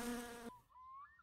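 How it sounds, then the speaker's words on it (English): Wasps buzz inside a roof in the video game My Summer Car, a loud close buzz that cuts off after half a second and leaves a faint, thin drone. "we do have the uh, wasps in here"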